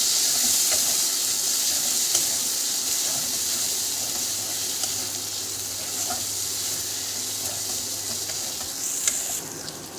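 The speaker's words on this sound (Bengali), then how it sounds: "ছেনাটা একটু ভেজে নিয়েছি" Chhena, drained cottage cheese, fries in a pan with a soft, continuous hiss and sizzle, broken by occasional light clicks of stirring; steady and close, with no voices.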